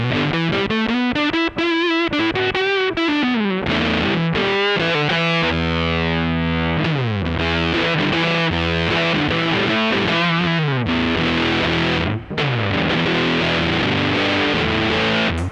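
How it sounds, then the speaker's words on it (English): Loud, gnarly fuzz guitar through the Fuzz Face-style red fuzz of an OPFXS V UNO multi-effect pedal plays a run of bends, sustained notes and chord stabs, thick and saturated with brief gaps between phrases. "Big gnarly fuzz."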